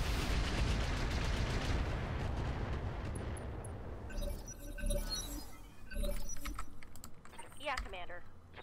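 Weapons fire in the BattleTech mod Roguetech, a dense barrage of shots and impacts over a mix of game effects, thinning toward the end with scattered sharp bursts, while a voice speaks at times.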